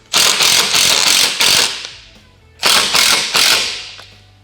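A ratchet tightens windshield mounting hardware on a 2021+ Can-Am Commander XT 1000, giving rapid loud clicking in two bursts of strokes with a short pause between them.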